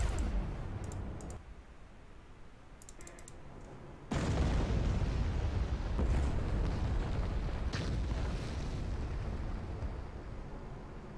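Explosions from units being destroyed in the Star Wars strategy game Thrawn's Revenge, a dense rumbling blast bed with clicking interface sounds, a sudden loud burst partway through, sustained without speech.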